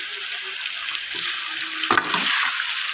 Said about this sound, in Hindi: तो ये मैं इसमें सारा ऐड करूँगी और इसको तेज़ आंच पे फ्राई करूँगी